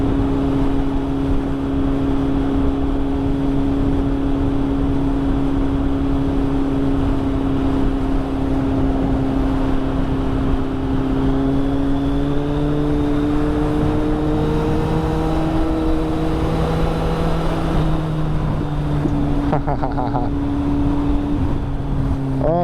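A Kawasaki ZX6R motorcycle cruises close-up with a steady engine drone and heavy wind rush, its pitch climbing gradually as the bike speeds up before easing toward the end.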